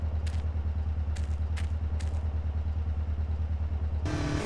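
A motorcycle engine in GTA San Andreas drones steadily at low pitch throughout, with a few brief bright clicks over it and a sudden harsher burst of noise near the end.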